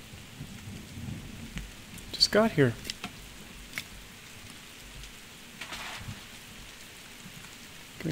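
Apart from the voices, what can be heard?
rain falling in the video game The Forest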